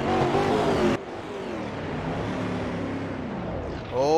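Race cars on a circuit roar past in turn, with a loud engine note that cuts off sharply, then a quieter car passing, and another engine swelling near the end as a commentator speaks.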